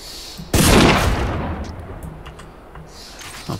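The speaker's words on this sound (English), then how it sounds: "Hello, I'm being shot at." A loud, close gunshot blast in the video game Huntfeast rings out and decays into a long echoing tail, followed by faint scattered distant shots.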